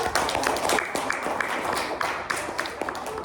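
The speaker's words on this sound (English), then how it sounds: "give him a round of applause" A sixth grade class gives a burst of applause in a classroom, a dense patter of many hands at a moderate level, mixed with faint voices.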